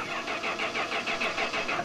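A DeLorean car engine cranks in an animated scene, with rapid rhythmic starter pulses repeating evenly under a steady motor drone, fairly loud and with no speech.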